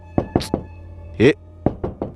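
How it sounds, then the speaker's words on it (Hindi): Knocking on a door in a Hindi horror story scene: three sharp raps, a short pause with a brief thud, then three more, close and distinct. "रोहित, अरे दरवाजा खोल"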